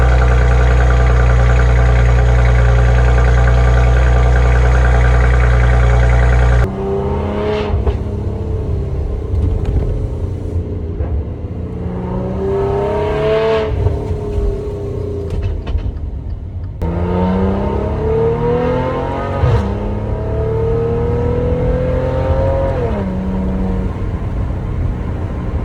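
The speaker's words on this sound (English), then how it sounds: "The exhaust note is incredible." A Maserati Ghibli V6 engine idles loudly and steadily, then revs up and down repeatedly with a deep exhaust growl, pitch rising and falling with each blip.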